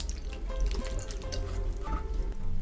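Water sloshing and dripping in a bowl as plums are rinsed by hand, steady and close, with no talking.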